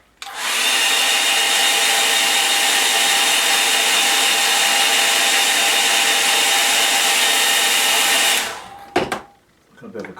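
A hair dryer blows steadily at close range over a wet watercolour painting, a loud continuous whooshing roar that runs for about eight seconds, then cuts off, followed by handling knocks.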